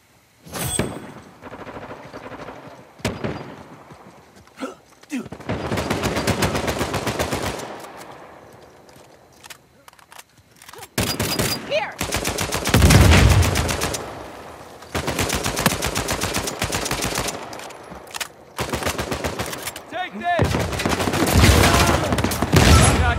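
Gunfire in the video game Uncharted 4: repeated bursts of loud automatic fire and shots, coming in clusters separated by brief lulls across the whole stretch.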